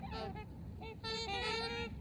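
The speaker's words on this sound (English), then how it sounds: "There's a whole flock of swans about to fly behind me." A flock of swans flies overhead above a lake in winter, giving repeated nasal honking calls in overlapping bursts, moderately near, with no talking.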